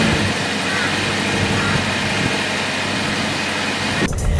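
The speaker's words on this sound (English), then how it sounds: "the engine kicks in, it's quite noisy" A 2020 Subaru Forester Hybrid petrol engine drones steadily and noisily at close range, then cuts off abruptly near the end.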